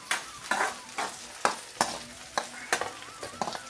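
Okra frying in a pan for a bendakaya fry, stirred with about eight rhythmic scraping strokes over a steady background sizzle, close and moderately loud with no talking.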